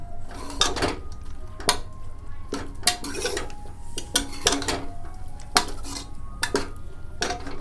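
Metal cookware clanks and clinks as a cooking pot of beef aloo qeema is handled and its lid lifted. Several sharp, close metallic knocks ring out at irregular intervals over a steady low background, with no talking.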